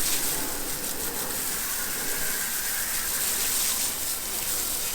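Water sprays hard and continuously over a Mustang car wheel being rinsed, a loud, close, steady hiss and gush with no break.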